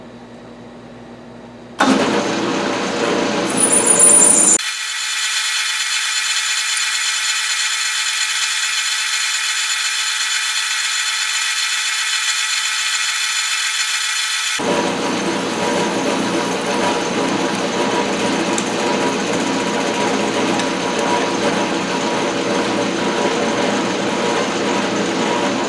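A lathe parts off a metal workpiece in a home machine shop, a loud steady machining drone with a brief higher whine early on, continuing unbroken for most of the clip with no talking.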